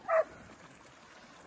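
A hunting dog gives a single short bark during a pig hunt competition near a river, loud and brief at the start, followed by quiet outdoor background.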